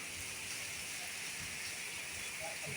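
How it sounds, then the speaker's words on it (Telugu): Heavy rain driven by wind in Ongole, a dense, steady hiss that fills the whole stretch without letup, with no voices heard. "ఒంగోలులో గాలి, వర్షం, ఉరుములు, మెరుపులతో కూడిన వర్షాలు, భారీ వర్షం పడుతుంది"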